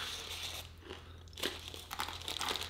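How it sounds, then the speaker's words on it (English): Roasted potato sticks crunch and crackle between the teeth in close, irregular bites and chewing, with no talking. "Wow, that's very crunchy."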